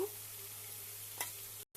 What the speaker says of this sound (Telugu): ఇప్పుడు ఫ్రై అయిపోయింది కదా చికెన్ కూడా వేసుకుంటున్నాను దీంట్లో